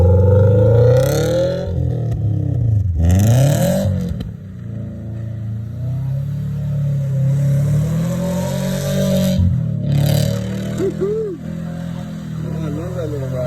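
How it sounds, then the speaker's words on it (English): A Toyota 86/Subaru BRZ-type sports car drifting in snow revs and whines in rising and falling bursts, with a voice talking over it at points and occasional bumps. "So here's a clip of me drifting in the snow."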